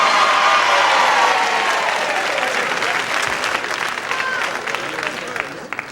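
Studio audience on a 1981 TV game show, The Price Is Right, giving a loud sustained crowd roar of booing mixed with applause-like noise, steady and dense, fading slightly toward the end.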